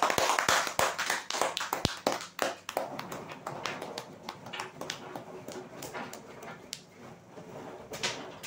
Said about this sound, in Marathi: जोरदार टाळ्या वाजवण्यासाठी